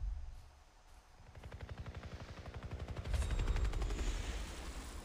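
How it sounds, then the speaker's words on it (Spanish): A helicopter in the video game Far Cry 3 thumps with fast, rhythmic rotor pulses that swell louder as it nears, with heavy low rumble and no talk over it. "El helicóptero."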